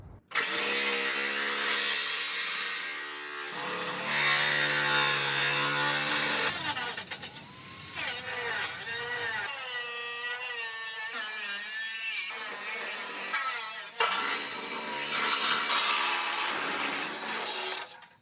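Harsh, rapid metallic chattering of a power nibbler biting through the sheet-metal body of a VW Beetle, loud and close, in steady bursts with brief pauses between cuts.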